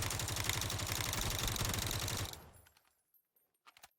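Rapid automatic gunfire from the M16 and Mutant rifles in a video game, a loud fast rattling string of shots lasting about two seconds that then cuts off, leaving a few faint clicks.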